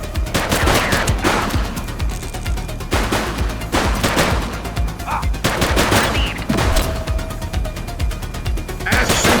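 Sustained gunfire in the crime action game The Precinct, with bursts of automatic fire and single shots repeating in waves, loud and close throughout the shootout.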